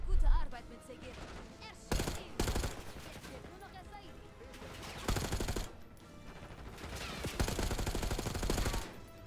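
Bursts of video game gunfire in Call of Duty: Black Ops 6, with sharp volleys around two, five and eight seconds over a busy game soundtrack, while a player talks throughout.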